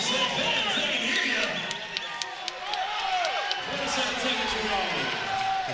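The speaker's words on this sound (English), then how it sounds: "The crowd's getting hyped." Crowd noise rising at a college wrestling match between UVU and Oklahoma, a steady roar of cheering and shouting filling the arena under an announcer's talk.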